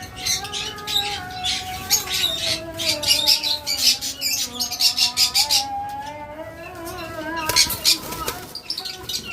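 Pet lovebirds, including pairs carrying eggs, chirp and squawk in a loud, busy chorus of overlapping tweets and calls from cages close by, with no pause across the stretch.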